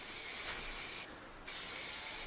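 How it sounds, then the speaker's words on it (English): An aerosol can of spray filler coating rough model slot car track barricades, giving a loud continuous hiss broken by a short pause before the spray resumes. "So let's get spraying."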